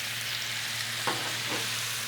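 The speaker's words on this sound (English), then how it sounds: "Get the oil down and get the shrimps on." Shrimp sizzling in oil on a Blackstone griddle, a continuous close frying crackle and hiss with a couple of brief scraping stirs near the end, no voices.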